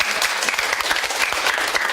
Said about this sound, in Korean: 박수 한번 좀 부탁드릴게요